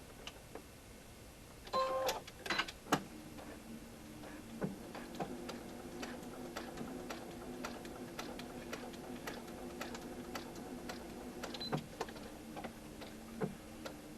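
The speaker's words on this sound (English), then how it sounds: "And I sew along line number 4." A sewing machine stitches a quilt seam along a seam allowance guide, a steady run of quiet, rapid mechanical ticks with a couple of louder clunks near the start, close and alone without talk.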